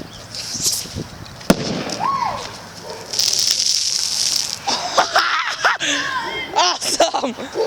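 A plastic bottle of vinegar and baking soda bursts with one sharp, loud bang, followed by excited shouting and voices talking over outdoor background noise.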